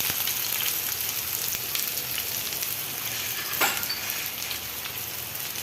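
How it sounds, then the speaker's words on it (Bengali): Potatoes and long beans fry in a pan with a steady, close sizzle and soft crackle throughout, plus the brief scrape of a stir partway through; no one speaks. "বটবটি দিয়ে আলু দিয়ে ভাজি করতেছি"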